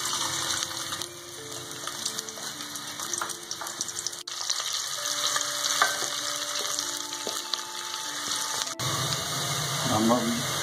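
Half an onion fries in half a cup of oil, with garlic and ginger, for daal mash. A continuous close sizzle with stirring clatter runs under faint background tones and voices.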